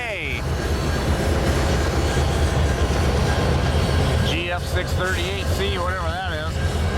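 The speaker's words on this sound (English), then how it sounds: "Pretty good looking old locomotive, really." CN freight locomotives with an EJ&E SD38-2 pass close by at the Osage Sub, giving a steady loud diesel rumble and wheel noise that persists throughout, with horn-like wavering tones later on.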